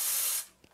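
A steam wand on a La Marzocco Linea Mini espresso machine lets out a loud, close, bright hiss that cuts off abruptly partway through, leaving faint room sound.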